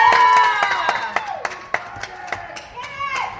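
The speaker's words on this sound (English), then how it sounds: "as you could probably hear from the cheering" A crowd cheers and claps at a youth B-team baseball game between the Rock Springs Stallions and the Green River Knights, with scattered sharp handclaps, whistles and children's shouts in a lively outdoor mix.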